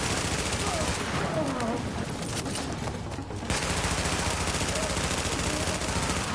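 Gunfire in The Division video game, a dense, continuous rattle of shots under game sound, close and loud for nearly the whole stretch with a brief dip in the middle.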